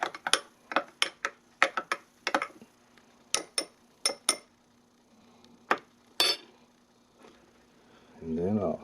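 A utensil clinks against a glass vessel while rehydrated yeast is stirred into liquid for homemade apple wine, a rapid series of sharp taps in clusters, with a brief voice at the end.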